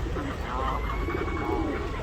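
Pigeons cooing in a soft, continuous low murmur with ducks nearby, heard under steady outdoor background noise.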